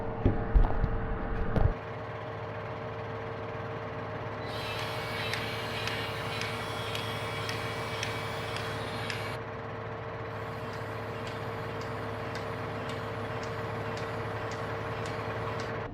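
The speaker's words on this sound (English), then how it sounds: "I'll tip the trailer up and see if it all comes out" A tractor's hydraulics tip up a farm trailer, a loud rumble and clatter at first, then a steady engine drone with a high hydraulic whine rising over it.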